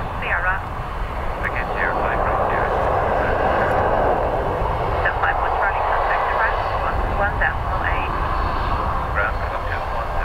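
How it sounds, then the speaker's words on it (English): An ATR turboprop airliner arrives at Dublin Airport with a loud, steady engine roar that holds throughout, while a voice speaks over it at intervals. "ATR coming at you"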